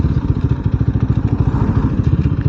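A motorcycle rumbles along a bumpy country road in the west of Scotland, its engine pulsing in a steady, rapid throb with clattering jolts, close and loud with no voices.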